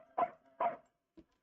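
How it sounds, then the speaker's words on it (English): A dog barks twice in loud, close bursts, followed after a brief pause by a short yip and the start of another bark. "That's my dog."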